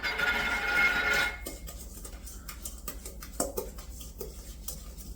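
Sliced apples with salt and cinnamon being stirred together in a bowl: a brief soft rustle followed by scattered wet clicks and light scraping of a utensil, close and fairly quiet.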